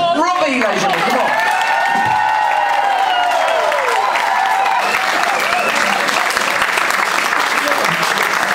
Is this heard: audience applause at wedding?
yes